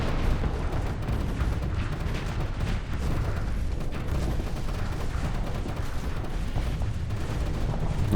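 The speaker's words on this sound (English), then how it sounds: "Yeah, that's a lot of missiles coming my way." Dense, continuous barrage of missile impacts and rumbling blasts in a space shooter game, a steady loud wash of booms and crackle with no pauses and no talk.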